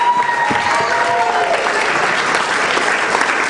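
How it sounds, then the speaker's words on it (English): A party crowd breaks into a warm round of applause for a couple, Mr. and Mrs. Dickman, during speeches; steady clapping fills the room with a faint whistle-like tone rising through it early on. "One big round of applause for Mr. and Mrs. Dickman"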